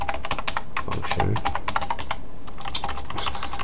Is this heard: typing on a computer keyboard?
yes